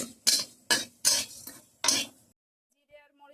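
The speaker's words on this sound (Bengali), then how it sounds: "ওদিকে জিরে ভাজা হচ্ছে, জিরে আর মরিচ" Cumin seeds and dried chili are dry-roasted in a pan, heard as five sharp scraping stirs of a utensil in quick succession, followed by near silence.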